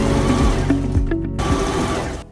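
A sewing machine top stitching the folded hem of a dress, a close, loud, continuous whirring motor with a rapid needle rhythm that slows and trails off at the end.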